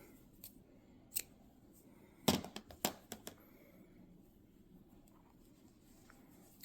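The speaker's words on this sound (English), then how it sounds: "You can also go ahead and cut the black yarn." Scissors snip through black yarn during a crochet parrot plushie project, a lone soft cut followed by a quick cluster of sharp close snips, then quiet.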